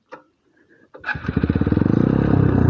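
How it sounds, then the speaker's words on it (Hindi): A TVS Apache motorcycle engine fires up close by after a couple of faint clicks, building into a loud, rapid thumping idle that steadies while the bike is being parked. "चलो पार्किंग लगाता हूँ इधर बाइक लगाता हूँ"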